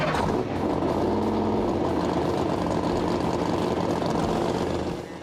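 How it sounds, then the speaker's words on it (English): A monster truck's engine fires up and settles into a loud, deep, continuous rumble, close and steady before cutting off at the end. "it's all fun and games until you hear this truck start up, and then your entire body feels the rumble of that engine"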